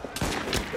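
A quick burst of video game gunfire in Assassin's Creed Syndicate, several sharp cracks in rapid succession, loud and close.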